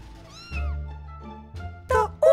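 A cat meows in a short, rising and falling call, then a few brief, louder meow-like cries toward the end, close and clear over a low steady hum.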